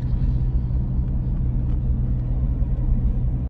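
Motorcycle engine while riding in traffic, a loud, steady low rumble that holds constant for the whole stretch and then cuts off abruptly.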